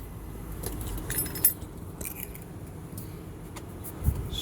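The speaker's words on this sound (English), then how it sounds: "Originated 2 proximity key fobs for this vehicle." Two proximity key fobs for a 2016 Honda Pilot jangle in a few quick metallic clinks and rattles, close and fairly quiet, against a low background hum.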